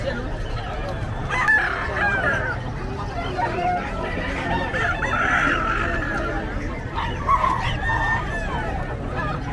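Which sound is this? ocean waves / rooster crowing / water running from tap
rooster crowing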